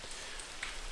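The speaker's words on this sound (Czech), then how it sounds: "Opět prší" Steady rain falls in the Minecraft video game, a soft continuous hiss of drops with no talking over it.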